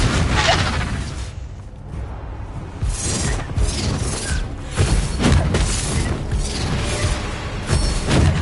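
A Confringo blasting spell explodes during a spell-heavy duel in Hogwarts Legacy, with a series of booming magical blasts, whooshes and crashing impacts that form a loud, continuous battle din.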